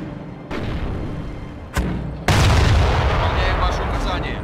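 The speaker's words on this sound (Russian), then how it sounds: "Теперь у нас есть оборонительная артиллерия." Defensive artillery in Company of Heroes on the Vir river valley map fires in heavy booms, one at the start, a sharper crack midway and a loud sustained blast with rumbling tail.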